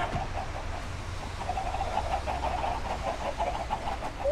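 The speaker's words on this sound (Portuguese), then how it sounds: "mas muita galinha mesmo" Chickens clucking in Minecraft, a steady stream of short clucks repeating over a continuous low hum, moderately loud and with no talk.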